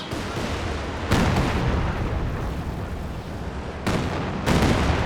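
A Katyusha rocket artillery barrage in Company of Heroes 2 roars as a dense, continuous rumble of rocket fire and explosions, with sharp surges as fresh volleys land.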